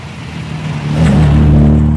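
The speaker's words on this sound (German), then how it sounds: "3268 Kubik V12 Motor aus Aluminium mit 280 PS bei 7000 Umdrehungen in der Minute" A 1965 Ferrari 275 GTB with a 3.3-litre aluminium V12 engine is heard nearby, its steady tone swelling into a louder, rising rev partway through and holding strong to the end, with no talking.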